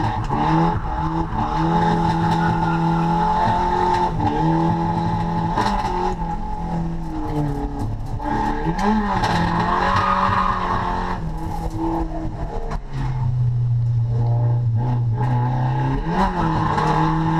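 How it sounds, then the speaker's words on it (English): Race car drifting on a track during a track day, the engine held at high revs through the corner with a steady loud roar, shifting pitch and continuous tire squeal, close and unbroken. "we can clutch kick mid-corner to keep the revs up and allow us to continue the drift"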